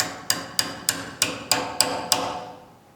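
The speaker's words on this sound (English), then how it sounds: "I'll take my tape wrap punch, set it into the dovetail, and I'll tap the rear sight out" A hammer strikes a tape-wrapped punch set in a pistol's dovetail to drive the rear sight out: seven sharp, evenly spaced metallic taps about a third of a second apart, close and alone, each ringing off briefly.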